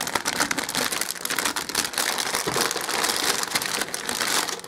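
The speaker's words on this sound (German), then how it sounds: "hat hier dann plötzlich jede Menge Plastik in Plastiktüten" Plastic bags holding Gunpla model kit parts, lifted from a lift-off-lid box, crinkle and rustle continuously at close range, a dense steady crackle with no talk over it.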